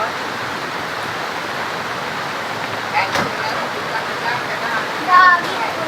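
Floodwater rushes past houses sunk in a flood, a broad, constant roar with splashy texture under excited shouting voices close by.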